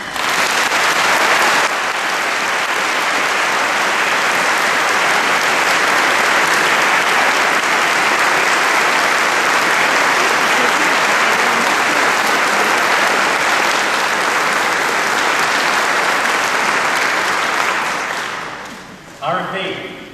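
A church congregation applauds at a first communion, a dense, sustained roar of clapping that holds steady for many seconds before tapering off and ending.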